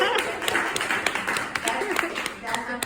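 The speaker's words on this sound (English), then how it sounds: "That's applause for you finally getting off the board." Scattered clapping at an annual member meeting, a small group of hands tapping irregularly and fairly close, mixed with talk and chatter throughout.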